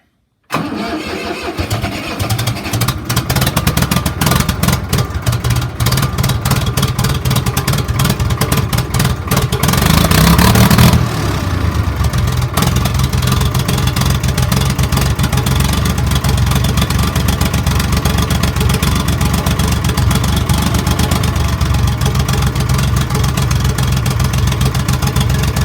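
An old tractor engine in a cold barn cranks and catches, then settles into a loud, steady idle. It keeps running close by with a brief surge partway through and no talk.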